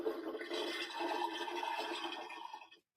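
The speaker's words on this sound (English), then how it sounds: "This gigantic Barbie dollhouse. It makes all kinds of noise, even flushes the toilet. See if I can make it flush." A large toy Barbie dollhouse plays its electronic toilet-flush sound effect, a loud, steady gushing rush lasting under three seconds before cutting off abruptly, with no talking over it.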